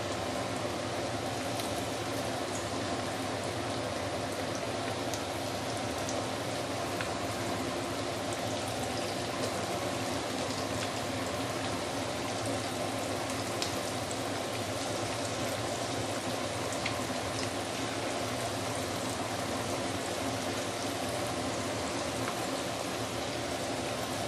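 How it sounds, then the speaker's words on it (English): Pieces of sweet and sour pork deep frying slowly in oil over a medium-low flame, a steady, even, dense sizzle with fine crackling bubbles that continues unbroken and alone throughout. "Use either medium or medium low fire right now to slowly deep fry."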